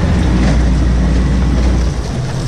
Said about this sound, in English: Boat keeps running up on the ice.